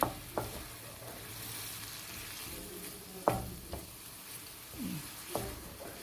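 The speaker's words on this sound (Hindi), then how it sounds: "और इस मसाले को हमने भूनना है अब, ताकि जो दाल का कच्चापन है वो ख़त्म हो सके।" Lentil masala for maash and chana dal roasts in a pan with a soft steady sizzle, broken by several sharp scraping and tapping strokes of a stirring spoon against the pan.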